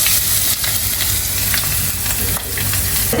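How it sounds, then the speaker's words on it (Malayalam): Beef pieces fry and sizzle steadily in a hot pan as crushed garlic and ginger go in, a continuous loud crackle with occasional stirring scrapes and no voices. "ഇത് നല്ല ബ്രൗൺ ആയി വന്നിട്ടുണ്ട് അപ്പൊ നമുക്ക് ഇനിയിപ്പോ വെളുത്തുള്ളി ഇഞ്ചി ചതച്ചതിട്ട് കൊടുക്കാം"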